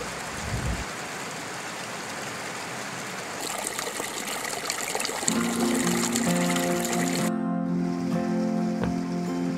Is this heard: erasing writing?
no